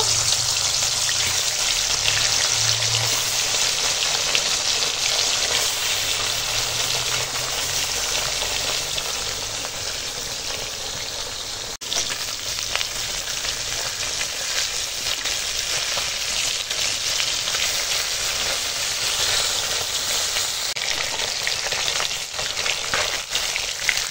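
Bhola fish pieces coated in salt and turmeric frying in hot oil, a loud, dense, crackling sizzle holding steady throughout with no voices.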